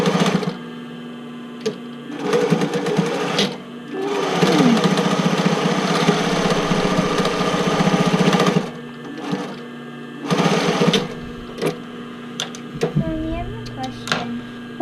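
Sewing machine stitching binding on an 80s-style sailor shirt, loud close bursts of rapid needle whirring that start and stop several times, the longest run lasting a few seconds, with voices talking in the pauses.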